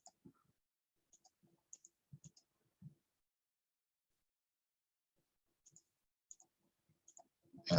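Sparse, faint clicks of calculator buttons being pressed one at a time in a quiet room, in small irregular clusters separated by silence.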